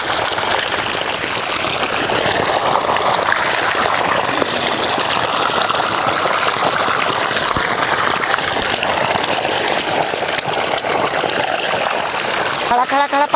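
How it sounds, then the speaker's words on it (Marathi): Irrigation water gushes loudly and steadily along a farm-field channel, a dense, unbroken rushing wash that fills the whole stretch. "आपल्या वावरात बघा पाणी किती चांगलं चाललं"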